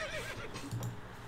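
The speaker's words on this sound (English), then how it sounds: "Brent, I met some horses. They're beautiful." In Civilization IV, a horse gives a brief neighing whinny, close and clear, lasting about a second with a quavering pitch.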